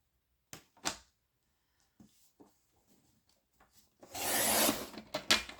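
Paper is cut for a scrapbooking A5 pouch: a few sharp clicks and light scraping strokes, then a longer loud rasping slice near the end, up close in a quiet room.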